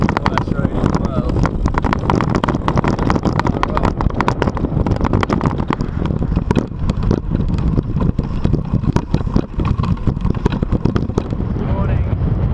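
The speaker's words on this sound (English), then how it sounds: "We've still got this wind tormenting us." Strong desert wind buffets the microphone throughout, a steady rough roar with gusty bursts, heard while cycling across the desert between Aktau and Nukus.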